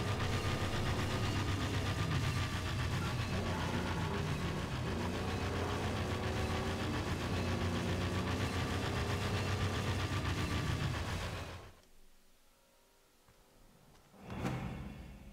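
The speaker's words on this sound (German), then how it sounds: "Auch diese Fehlzündungen aus dem Auspuff sind sehr geil." A car engine in the video game Mad Max runs loud and steady with a rough, knocking rumble and exhaust backfires. It cuts out abruptly near the end, and one short final burst follows.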